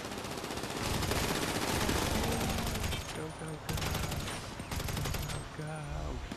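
Rapid bursts of automatic gunfire from GTA 5 Online during a race, loud and sustained in stretches with short breaks, mixed with game sounds and a player's voice talking over it.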